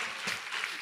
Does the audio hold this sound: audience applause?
yes